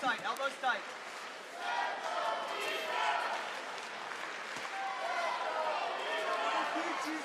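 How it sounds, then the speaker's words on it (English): A crowd at a jiu-jitsu match chants in a steady rhythmic cadence, far off and fairly even, under the clear voice of a commentator who talks over most of it. "Now the chant from the crowd comes in, let's go Mica."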